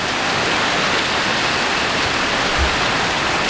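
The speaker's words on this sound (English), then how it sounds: "I think it's more rainy now." Heavy hurricane rain pours at night as a dense, unbroken hiss of water, loud and steady, with a faint low thump near the end and no talking.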